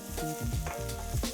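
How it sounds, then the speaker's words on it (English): Sliced red onions frying in olive oil in a pan, a steady close sizzle with soft stirring scrapes, heard alone. "Add the red onions to the frying pan and fry for about 3 to 5 minutes"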